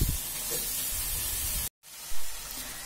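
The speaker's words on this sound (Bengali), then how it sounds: "এইবার আমি চিকেন কিমাটাকে ভালো করে মশলার সঙ্গে কষব।" Chicken keema frying with spices in a pan over a medium gas flame, a steady loud hiss and sizzle that drops out briefly, then resumes with a short swell.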